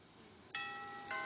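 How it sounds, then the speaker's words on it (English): A VTech video doorbell chimes twice, a clear bright two-tone ring starting about halfway through, with the second tone arriving just before the end, in a quiet studio setting. "Okay, rang the doorbell."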